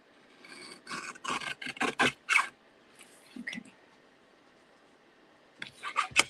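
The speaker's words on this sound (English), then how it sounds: "let's just trim that" Paper trimmer cutting a sheet of designer series paper for a notecard: a run of short, close rasping slides at a steady rhythm, a brief pause, a few softer strokes, then a final burst of scraping passes.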